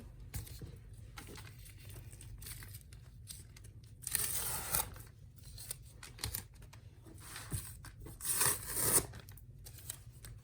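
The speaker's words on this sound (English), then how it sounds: "I'm going to take this tape off" Masking tape pulled off an in-the-hoop embroidered clear stadium bag, with soft crinkling handling noise broken by several louder ripping peels, close up and alone without talking.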